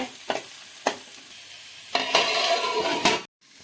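Tomatoes and masala cook in a pan for a crab roast, with a soft sizzle under scattered scrapes and clinks of a spoon stirring, then a sudden cut to near silence.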